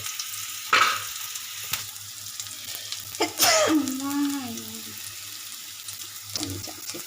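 Spices hit hot oil in a pan and sizzle, a close hissing burst with some clatter and a brief gurgling swirl, fading back to a low background.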